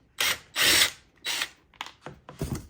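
A Phillips head screw is backed out of a truck interior panel with a power driver, giving several close, loud whirring bursts of varying length followed by quicker short buzzes.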